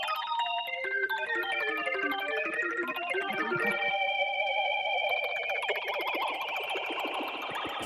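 A synth lead plays descending stepped notes, then holds tones that wobble with an extreme, fast vibrato, bright and electronic with heavy reverb.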